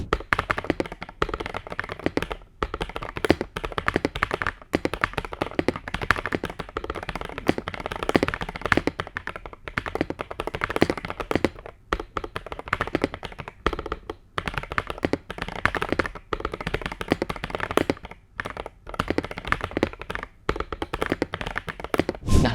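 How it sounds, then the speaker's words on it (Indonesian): Continuous typing on a Feker IK65 65% mechanical keyboard, dense rapid keystroke clacks throughout at close range, loud and steady with no speech. "mungkin kita dengar dulu suara typing testnya ya"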